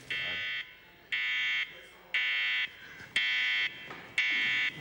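Radiation body scanner alarm at the exit checkpoint of the Chernobyl exclusion zone, sounding five loud, evenly spaced electronic beeps, each lasting about half a second, with faint voices and room noise between them.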